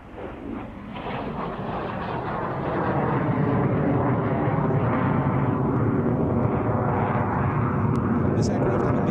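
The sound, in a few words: T7 standard jet aircraft flying at airshow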